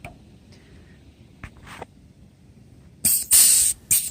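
A grease fitting on a Ford 501 sickle mower being greased: a few faint clicks and quiet bumps, then several loud, close, hissing bursts of spray near the end.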